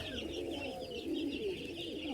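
Pigeons coo softly in a low, rolling murmur, with a few faint chirps and steady background noise.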